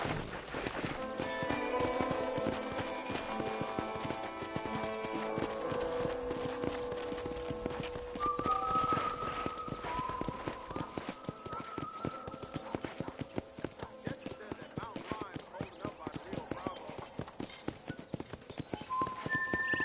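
Rhythmic clip-clop of horse hooves at a steady trot or gallop in the video game Red Dead Redemption, running throughout over soft background music, with no one speaking.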